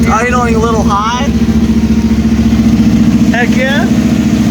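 A Corvette engine idles a little high just after being refuelled with five gallons, a steady low rumble running throughout with voices talking over it.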